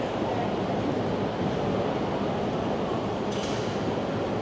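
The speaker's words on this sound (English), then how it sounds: "see the trains have rubber tires. Very different sound than the Toronto subway." A rubber-tired Montreal Metro train runs steadily with a broad, continuous rumbling roar from inside the moving car, constant in level with no pauses.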